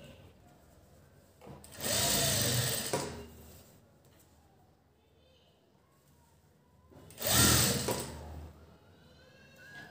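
A sewing machine stitching a piping strip right at the fabric edge whirs in two separate runs of a second or so, loud and close, with quiet handling sounds in between.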